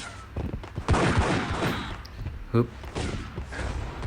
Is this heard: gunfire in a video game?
yes